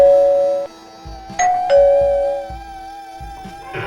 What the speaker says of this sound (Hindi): लेकिन उसी रात ठीक 2:30 बजे उसकी डोरबेल बजी।